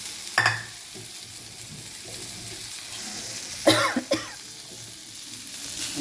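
Spices with ginger paste and ground coriander and cumin sautéing in a pan, a low steady sizzle with a few sharp stirring scrapes, fairly quiet and close.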